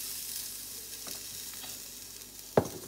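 Onions sizzle and fry softly in a pot, a steady crackling hiss with a brief clatter of a utensil near the end.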